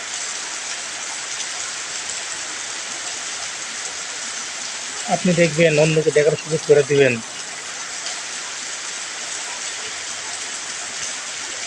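Steady rain falls in a dense, even hiss throughout, with someone speaking briefly over it midway.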